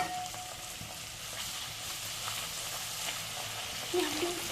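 Puri bubbles and sizzles in hot oil, a steady close crackling hiss filling the air without a break and swelling slightly near the end.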